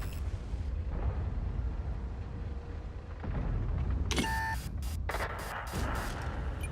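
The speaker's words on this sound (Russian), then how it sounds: "Отличный выстрел." A heavy Leopard 1 tank cannon blast in a video game booms over a low rumbling engine drone, followed by a burst of sharp mechanical clatter and ringing tones.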